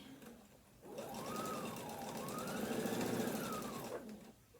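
A sewing machine back stitching the seam of a tote bag runs in one continuous whirring burst of about three seconds, its motor speed rising and falling, close and clear with no talk.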